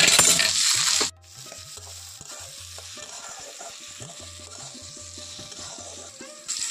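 Chopped tomato tipped into spices frying in a pan, a bright hiss at the start that drops off, then quieter bubbling and repeated scrapes and clinks of stirring before the sizzle rises again.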